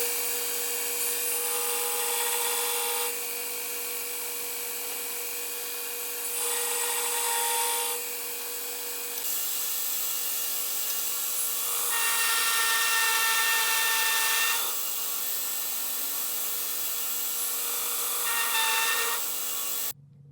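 A belt grinder trims a metal plate edge down to width, giving a steady, loud abrasive roar with pitch and intensity shifting as the piece passes through in alternating strokes, running continuously until a brief stop at the end.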